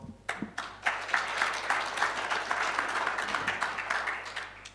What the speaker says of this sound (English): Very big hand of applause.